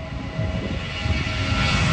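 An airplane passes overhead with a steady, broad engine roar that holds loud and constant, gradually swelling over the two seconds, with no talk.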